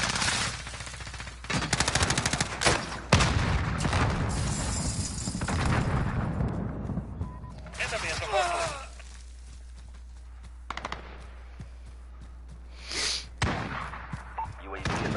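Gunfire in Modern Warfare, with shotguns among the weapons: bursts of rapid automatic fire and sharp blasts crowd the first seconds, then scattered shots, impacts and effects follow, with a voice talking over parts of it.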